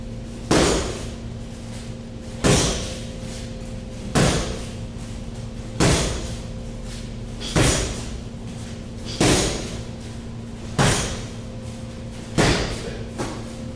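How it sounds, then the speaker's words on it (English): Full-power Muay Thai leg kicks slam into a padded leg kick trainer, eight heavy thuds spaced evenly about every second and a half, close and loud, each with a brief slap and nobody speaking. "He's shooting those kicks hard, okay?"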